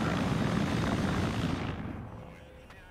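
A Mi-24 helicopter in a video game, a loud rotor and engine roar close by that gradually fades and recedes, leaving a faint background.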